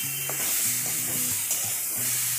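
Ridge gourd with two slit green chillies sautéing in a pan for a Bengali moong dal dish, a steady soft sizzle under repeated scraping and stirring strokes, close and moderately loud, with no talking.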